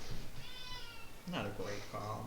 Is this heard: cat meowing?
yes